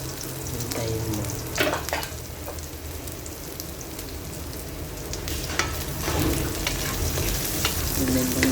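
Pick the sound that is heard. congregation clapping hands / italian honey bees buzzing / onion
onion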